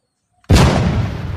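A toy M60 machine gun blaster fires after a short silence: one sudden loud burst that stays dense and broadband, rattling on without a break to the end.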